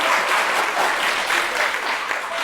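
A book concert audience bursts into steady, enthusiastic applause, a dense wash of clapping that fills the room for a couple of seconds without a break.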